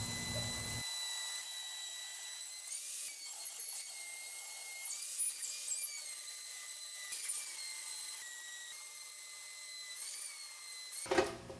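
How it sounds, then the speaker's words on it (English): High-pitched rotary cutting tool slicing an opening for a Comfort Troll tray install, a steady piercing whine with warbling pitch dips, ending in a brief louder burst. "We're going to get our cutting tool out, we're going to cut it"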